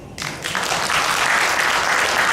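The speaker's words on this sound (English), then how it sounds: "please give yourself a round of applause" A conference audience bursts into a round of applause after a brief quiet start, dense and sustained clapping filling the room at close range.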